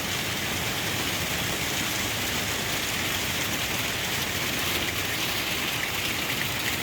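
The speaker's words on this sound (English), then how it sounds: "We got a slight rain delay here." Steady rain pours down outdoors during a pause in clearing piles at a salvage site, a dense, even hiss of drops that continues without a break and without talk.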